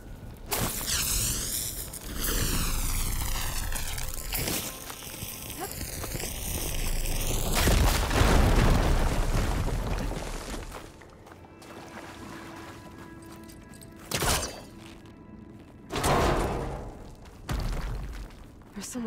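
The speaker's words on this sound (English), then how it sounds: "Should be able to blow up that fire gleam." A firegleam deposit blown apart in Horizon Forbidden West: a loud, broad burst of noise swells around the middle and rumbles for several seconds, followed by scattered sharper bangs and debris hits, with game music and ambience underneath.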